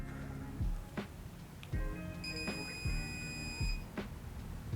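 A FarDriver ND72300 motor controller beeps repeatedly in steady, evenly spaced electronic tones, with a workshop hum underneath and no talking.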